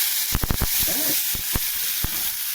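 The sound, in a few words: stirring salt and turmeric frying in a pan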